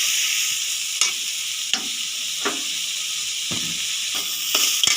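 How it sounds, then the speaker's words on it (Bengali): Ginger garlic paste sizzles in hot oil in a pan while a spoon stirs it, a constant close frying hiss broken by about six sharp scraping strokes at an irregular pace, with no talking. "আদা রসুনের পেস্ট, এটা একটু তেলের মধ্যে নেড়ে নিলাম যাতে এটা ভাজা ভাজা হয়ে যায়"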